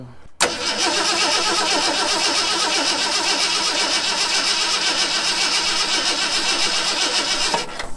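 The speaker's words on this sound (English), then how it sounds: "We'll use our starter button again. A few pumps there." A 1974 Ford F100 engine is cranked with a starter button, giving a loud, steady, rapid churning that runs nearly eight seconds without catching, close by.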